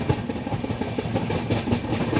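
A Humsafar Express train runs between Jammu and Sealdah, a steady rumbling roll with a rhythmic clickety-clack heard close up.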